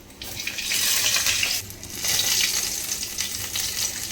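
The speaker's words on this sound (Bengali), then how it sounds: "ওই তেলের মধ্যে দিয়ে দেব সামান্য কালো জিরে আর একটা কাঁচা লঙ্কা ফাটিয়ে" Black cumin seeds and a green chilli sputter and crackle in hot oil for a Bengali potato and papaya curry, a loud, dense hiss in two close bursts with a brief dip between them.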